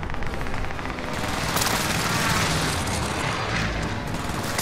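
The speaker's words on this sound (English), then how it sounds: "Allied precision airstrike incoming." Allied precision airstrike in a battle royale shooter, a sustained roar of overlapping booming blasts and crackling rumble that keeps going without a break, loud and dense with no distinct pauses.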